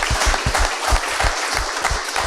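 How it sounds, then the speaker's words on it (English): Seminar audience clapping in a short burst, a fairly loud, close patter of hands with a rhythmic low thump underneath, no voices over it. "Round of applause"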